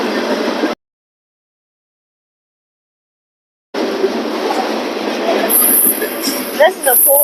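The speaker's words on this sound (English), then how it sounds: "This is a cool train." A freight train rumbles and clatters close by, cutting out briefly to silence, then returning with metallic squeals near the end.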